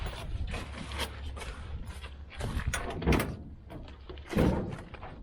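Doors on a 1950 GMC 9430 truck thud shut several times, with heavier slams near the middle and end, heard close over a low rumbling background with no clear talk.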